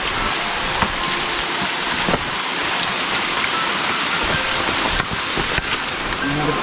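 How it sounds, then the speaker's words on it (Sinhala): Steady rain falling through jungle on a hike near a waterfall, a dense continuous hiss of drops on leaves and surfaces, close and even throughout with no voices. "වැස්සකුත් වෙනවා ඒත් එක්කම"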